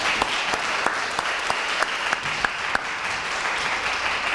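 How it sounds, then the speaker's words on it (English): A crowd applauding steadily, dense clapping with a few sharper individual claps standing out, continuous for several seconds. "Let's give a nice round of applause to our accompanist"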